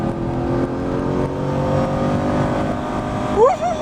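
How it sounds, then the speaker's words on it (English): A Camaro or Corvette accelerating downhill on a race track, engine note rising steadily with harmonic whine, climbing sharply near the end as revs build, close and loud. "Accelerating down the hill, nice and smooth on that accelerator."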